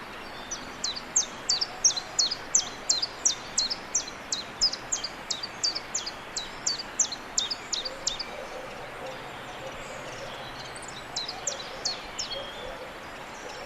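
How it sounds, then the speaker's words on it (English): Chiffchaff singing in spring at Monkstown, a steady run of evenly spaced two-note chips repeated about sixteen times, clear over faint background hiss, then a shorter burst after a pause. "the sound of this bird's song sounds like somebody rhythmically counting out coins"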